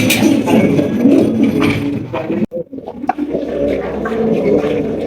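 Pigeons coo in low, rolling murmurs close by, with a brief quiet gap midway before the cooing resumes.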